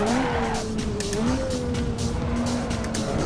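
A race car in a sim racing game, played in VR on the fourth lap, roars with a loud, close engine note that rises and falls through gear changes, accompanied by a continuous squeal of tires skidding.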